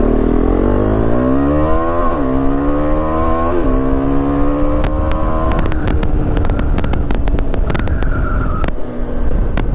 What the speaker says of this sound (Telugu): అండ్ బైక్ సౌండ్ తగ్గిపోయింది, డీబీ కిల్లర్ పెట్టేశాను నేను.